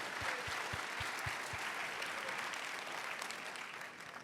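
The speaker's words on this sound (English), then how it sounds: "give them a round of applause" An audience at a business talk breaks into sustained applause, a dense, steady wash of clapping from a crowd, a few louder claps standing out near the start before it slowly thins.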